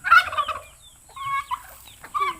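A turkey gobbles on a small farm, loud and near, in several rapid warbling bursts separated by short pauses, with faint clucks from other fowl between them.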